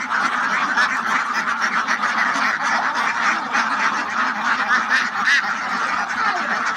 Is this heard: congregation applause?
no